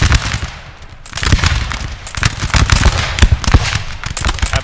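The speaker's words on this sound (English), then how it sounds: "armed populace certainly not happy being under fire by the very, very deadly British volleys." British musket volleys in Napoleon Total War come as dense, crackling rolls of gunfire, with repeated ragged bursts of many shots overlapping and fairly close.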